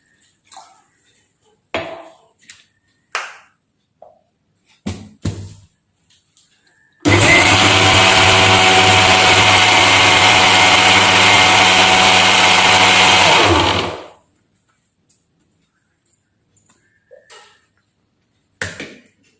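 A mixer grinder blends a chilled milk drink, roaring loudly and continuously for about seven seconds before spinning down, with scattered kitchen clatter and brief voice fragments before and after.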